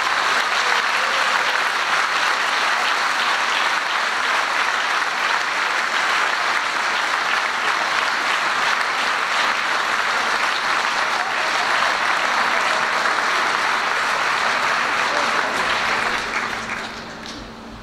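A large audience applauds Gérard Larcher, president of the French Senate, at a New Year's greetings event: dense, steady clapping sustained loudly for about sixteen seconds before it fades out.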